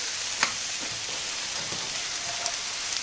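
Egg fried rice sizzles steadily in a big frying pan, with a soft scrape or tap of the utensil against the pan now and then, close up and with no voices.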